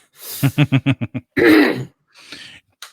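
A rapid burst of six short, sharp coughs, followed by a harsher throat-clearing cough and a faint breathy exhale, close and loud.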